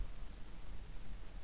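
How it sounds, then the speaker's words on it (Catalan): A computer mouse clicks twice in quick succession, faint and close, over a quiet background hiss. "fem clic a la icona d'un."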